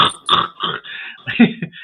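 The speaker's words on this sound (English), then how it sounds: "I'm burping" A person burps several times in short, loud bursts that rise and fall across about two seconds, close to the listener with no other sound.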